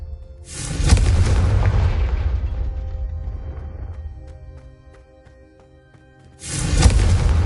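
Confringo spell in the video game Hogwarts Legacy blasting candelabras: a loud fiery boom that rolls and decays over several seconds, then a second burst starts near the end.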